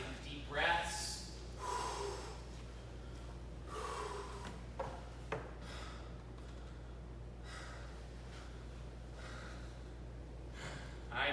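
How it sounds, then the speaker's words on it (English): Adults in a martial arts class take deep, audible breaths after a fast exercise round, with several breathy gasps and exhales rising and falling over a steady low hum in the room. "hands above your head, taking deep breaths"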